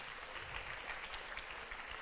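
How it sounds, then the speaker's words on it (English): Applause from schoolchildren and teams at the 2014 Cycle Heritage Quiz in Chennai, a steady roomful of clapping that stays even and moderately loud for about two seconds. "Give yourselves a big round of applause."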